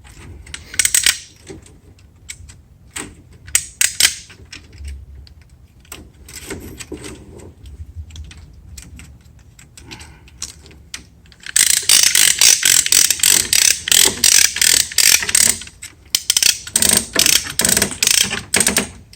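Pallet banding tool ratcheting a strap tight around a pallet load: rapid repeated metallic clicks, sparse and intermittent at first, then a loud dense burst of ratchet strokes near the end, close by with no talk.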